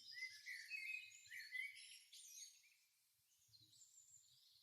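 Birds chirp outdoors in quick, bright bursts of tweets, faint and somewhat distant, fading into sparse calls toward the end.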